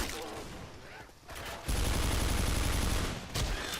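Rapid gunfire in Left 4 Dead 2, a loud dense burst of shots following muffled game noise, with a second brief burst near the end.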